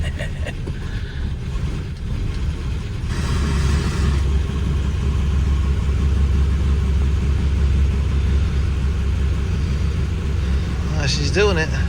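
A Plymouth Belvedere's carbureted engine runs after a cold start in snow, a loud low rumbling idle that steps up after a few seconds and holds steady, with people talking over it.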